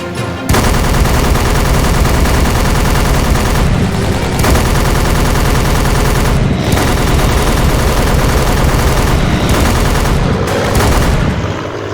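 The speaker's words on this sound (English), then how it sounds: "There's no satisfaction in shooting the AA guns" Anti-aircraft guns firing in a History Channel first-person shooter game: a loud, continuous barrage of rapid gunfire for about eleven seconds, broken by a few brief pauses.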